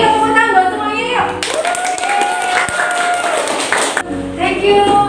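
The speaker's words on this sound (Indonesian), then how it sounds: "Yuk tepuk tangan buat semuanya yuk." Short burst of audience clapping in a classroom setting, a group of students applauding for about two and a half seconds between stretches of a teacher talking.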